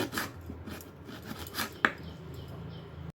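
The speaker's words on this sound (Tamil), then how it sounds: "இஞ்சியும் கொஞ்சம் கட் பண்ணிக்கோங்க." Ginger is finely chopped with a knife on a board, giving a quick run of soft scraping cuts and light taps with one sharper click, close and quiet, with no voices.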